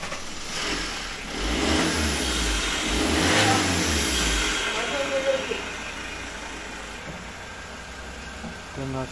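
A Renault Clio 4 engine revs in a workshop during routine maintenance, rising and falling through a couple of long, swelling revs over a steady mechanical hum, close to the microphone.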